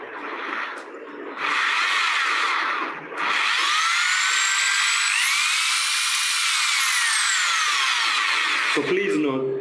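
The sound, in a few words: Bosch GSB 500 RE impact drill running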